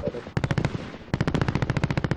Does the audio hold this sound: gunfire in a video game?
yes